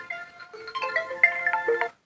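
A mobile phone ringtone plays a short, clear electronic melody for an incoming call, close and alone in a quiet room.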